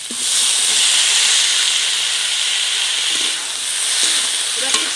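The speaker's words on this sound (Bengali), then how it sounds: "এবার কিছুক্ষণ ভালো করে কষিয়ে নেব।" Spices and ingredients sauté in a hot frying pan with a loud, steady sizzle and hiss that swells and dips as they are stirred, with a few faint utensil scrapes near the end.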